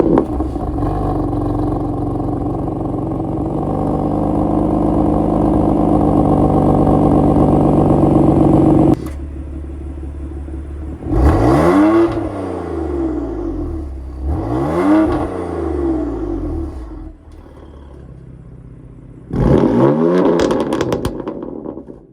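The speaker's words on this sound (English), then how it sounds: "I will show you guys, some exhaust clips, so of the car in Efficient, Sport, and Sport Plus" BMW M4 GTS exhaust cycling through Efficient, Sport and Sport Plus modes: a steady loud idle drone, then three sharp revving blips that rise and fall, close and alone.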